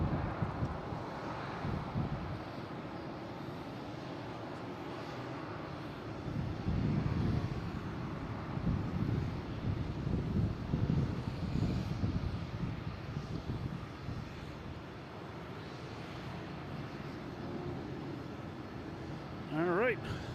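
An airliner landing on runway 27 at Boston Logan airport, a steady distant jet rumble with swelling engine roar and wind buffeting the microphone, while people talk nearby.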